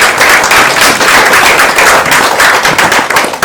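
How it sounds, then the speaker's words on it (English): Audience applause following a speaker's introduction at a community arts and wellbeing mela: dense, loud, continuous clapping from a crowd lasting the whole stretch, with no voices over it. "a big round of applause for Dr."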